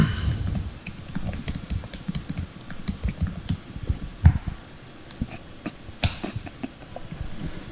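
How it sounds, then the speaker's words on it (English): Rapid clicking keystrokes on a computer keyboard, irregular bursts of close, moderately quiet taps with short pauses and a few louder key hits, no talking. "Just typing up what's wrong with the app in Slack."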